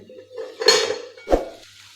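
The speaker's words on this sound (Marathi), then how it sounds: "आता आपण याच्यावरचं झाकण काढूया" A metal lid clatters as it is lifted off a pan of okra cooking over a low gas flame, with a scrape and a second clink against the rim, close and fairly loud.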